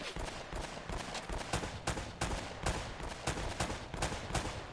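Pistol gunshots in the video game Uncharted ring out in a steady string of sharp, close reports, roughly a dozen shots spaced about every third of a second, loud over continuous background game noise.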